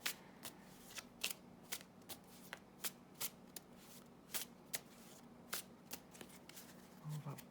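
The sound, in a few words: shuffling tarot cards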